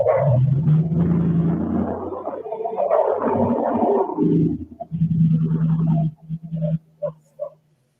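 A dog barks outside a house at night, a few short barks near the end following a stretch of low rumbling noise, fairly distant and muffled.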